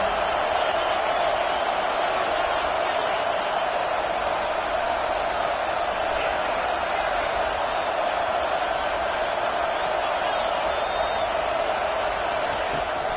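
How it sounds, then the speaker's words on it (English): A packed stadium crowd at an Arkansas vs LSU football game keeps up a loud, unbroken roar that holds steady for the whole stretch. "Listen to this crowd just shaking the girders of this place, trying to help their defense."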